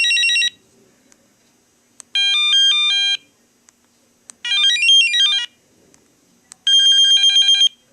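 A Motorola pager plays its sound wave ring alert, four loud bursts of bright electronic beeping tones with rising and falling sweeps, separated by short silences, with faint clicks between.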